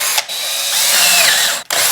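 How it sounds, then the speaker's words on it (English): A Craftsman power drill with a 1/4 inch bit whines loudly and steadily through about two seconds of close drilling, cutting out briefly near the end before spinning up again. "Now let's drill a 1/4 inch bit, I think."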